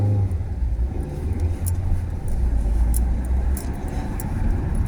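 A car engine runs steadily while driving, a continuous low rumble with road noise throughout, a few faint clicks and ticks above it, and no voices.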